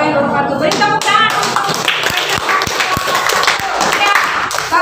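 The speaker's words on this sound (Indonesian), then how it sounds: "Beri tepuk tangan." Classroom audience applause: scattered, uneven hand claps and taps, fairly close and loud, with voices talking over them throughout.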